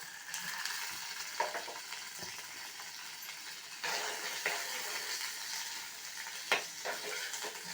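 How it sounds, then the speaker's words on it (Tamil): Paneer cubes frying on medium heat in a pan, a continuous soft sizzle with occasional stirring scrapes and clicks of a spatula, close and moderately quiet. "இப்போ வந்து பன்னீரை மிதமான சூட்டில் ஃப்ரை பண்ணி எடுத்துக்கலாம்."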